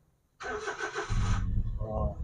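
A car engine being started during pre-road-trip checks: a short cranking whir cuts in after silence, then the engine catches into a low, steady idle, close and fairly quiet.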